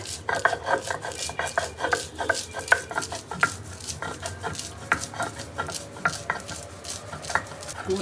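Roasted sesame seeds are ground on a grinding stone in repeated, rhythmic rubbing and knocking strokes, close and fairly loud, continuing steadily for several seconds.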